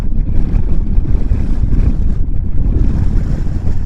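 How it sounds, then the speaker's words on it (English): Strong wind sweeps across an exposed hilltop, roaring and buffeting the microphone in a loud, continuous low rumble with no speech. "Well, that is a heck of a wind."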